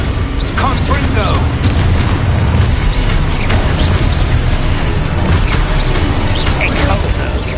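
Spells crackle and boom continuously in Hogwarts Legacy combat, including the fiery Confringo blast, with dense layered impacts, pops and magical whooshes over a loud game soundscape.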